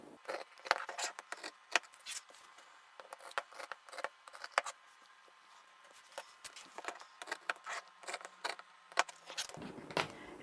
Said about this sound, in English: Let's cut this fabric out.